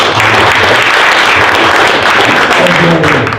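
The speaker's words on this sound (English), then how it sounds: "let's give Tom a round of applause for his" Sustained applause fills a sales meeting room, steady and loud from start to finish, with a faint voice underneath.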